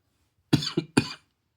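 A person who has been sick for a few days gives a short, close cough in three quick bursts, alone in an otherwise quiet room.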